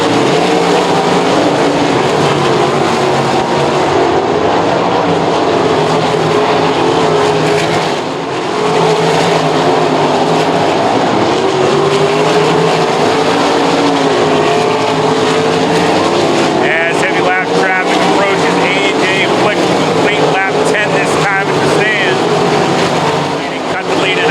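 Sprint cars race at Lernerville Speedway in Western Pennsylvania, a sustained loud roar of engines that swells and fades as the pack passes, with an announcer's voice over the din.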